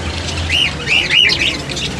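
Colorful green Australian-breed parrots give a run of shrill, rising squawks and chirps, several calls in quick succession over about two seconds, close by and fairly loud with no talking.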